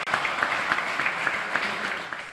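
Uniformed veterans and travelers cheer and applaud a veteran walking through an airplane, a steady wash of clapping and crowd noise throughout with no clear voices standing out.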